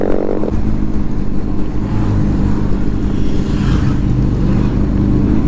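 Motorcycles pass on a road on the way to Dunseverick Harbour, their engines a loud, continuous droning roar that stays close and strong throughout.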